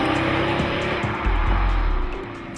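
A Pagani Huayra supercar with a 6-litre twin-turbocharged V12 and 7-speed sequential single-clutch gearbox drives close by, its loud engine roar swelling briefly, then easing off.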